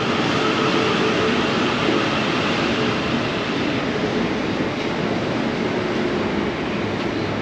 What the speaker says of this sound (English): Oh, there's a train now